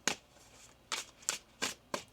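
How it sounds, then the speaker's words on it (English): A deck of tarot cards is shuffled in quick, crisp riffling bursts, five distinct shuffles separated by short pauses, close up with no talking. "One more shuffle, please,"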